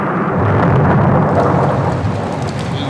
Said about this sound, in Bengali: এই রে, বৃষ্টি এসে গেল